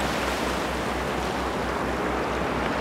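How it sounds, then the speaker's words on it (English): Ocean waves roll in along a rocky Tasmanian shore, a dense, continuous wash of surf with a gentle pulsing undertone, loud and close, with no voices. "It is the most amazing sound to listen to when the wave rolls in"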